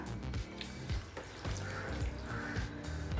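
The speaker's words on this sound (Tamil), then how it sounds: "இப்போ கொஞ்சம் திக்காகிடுச்சு, கொஞ்சமாக தண்ணி சேர்த்துக்கலாம்." Water pours in a short, uneven splashing stream into a thick ridge gourd chutney, with soft gurgles and a few drips, nearby and moderately quiet.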